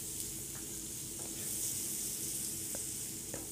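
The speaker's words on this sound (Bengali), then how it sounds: "এবার সব একসাথে ভালো করে নেড়ে নেবো" Bengali-style tomato dal with salt and green chillies sizzling softly in a pan as it is stirred, a faint continuous frying hiss broken by a few light scrapes.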